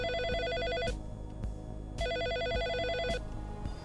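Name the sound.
telephone ringing in video game Always Sometimes Monsters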